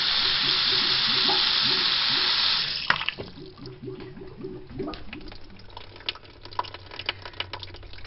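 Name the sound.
clogged bathroom sink drain gurgling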